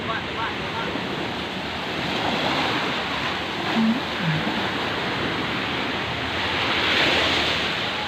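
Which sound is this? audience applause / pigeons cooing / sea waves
sea waves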